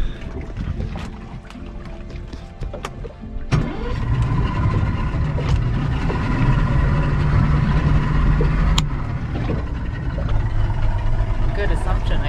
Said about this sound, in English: Let's see if this boat will start now.